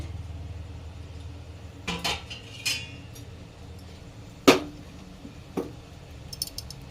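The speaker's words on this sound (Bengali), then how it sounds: "এবারে ঢাকনাটা খুলে দেখব মোমোটা কীরকম হয়েছে" A metal lid comes off a momo steamer after the vegetable momos have steamed for fifteen minutes, giving a few sharp clinks and taps of metal over a quiet background hiss, one louder clank in the middle.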